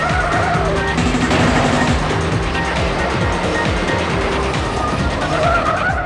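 Race cars in Ridge Racer 64 on the Nintendo 64, loud continuous engine drone with repeated rising pitch sweeps as gears change, layered with tire squeal and game effects throughout.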